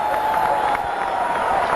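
A cricket crowd at a Pakistan v India one-day international in Multan breaks into steady, dense applause and cheering, a continuous wash of clapping heard from a distance for a brief moment.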